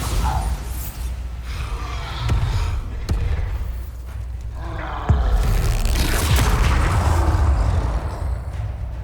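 Bombarda spell blasts in the Hogwarts Legacy video game, a series of booming thuds and whooshes amid continuous game battle noise, loudest in the second half.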